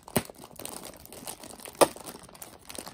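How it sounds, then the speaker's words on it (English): Packing tape on a shipping bag of vintage jewelry is snipped and peeled away in soft crinkling, tearing rustles, with two sharper crackling pulls standing out, close and fairly quiet. "I think I have a little bit more tape down here to snip at"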